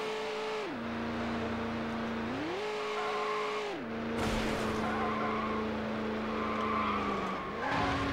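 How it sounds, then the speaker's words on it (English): A Lamborghini Murcielago races in Need for Speed: Hot Pursuit 2 on PS2, its engine note rising and falling through gear shifts while tires skid and squeal, loud and continuous with no talking. "Come on, Lamborghini. Speed boost."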